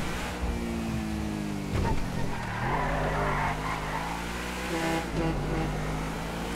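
A car driving around a golf course in Grand Theft Auto V, its engine humming steadily and shifting pitch as it speeds up and slows, with a brief skid-like burst in the middle, loud and close.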